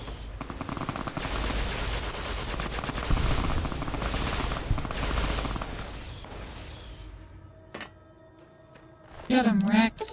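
Gunfire in a video game, a sustained rattle of rapid shots that fades out, followed by a sharp single impact and a brief whooping tone near the end.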